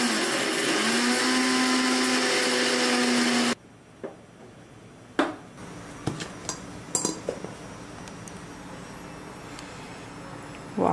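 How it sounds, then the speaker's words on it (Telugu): A mixer grinder whirs loudly and steadily for about three seconds as it grinds roasted spices and ginger for an Andhra-style chicken kheema fry, then cuts off abruptly, followed by a few light clinks of dishes and utensils. "రోస్ట్ చేసినవన్నీ గ్రైండ్ చేయడానికి నేను మిక్సీలో వేసుకుంటున్నాను."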